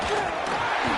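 Stadium crowd noise at a football scrimmage, roaring against the offense: a dense, loud, continuous wash of cheering and shouting fills the whole moment without a break.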